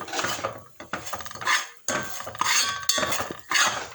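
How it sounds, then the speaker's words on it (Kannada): Chicken sukka roasted and stirred in a pan over a low flame, with repeated clattering scrapes and knocks of a utensil against the pan in an irregular rhythm, close and fairly loud. "ಒಂದು 5 ಮಿನಿಟ್ಸ್ ಈ ಥರ ಹುರ್ಕೊಬೇಕು ಲೋ ಫ್ಲೇಮಲ್ಲಿ"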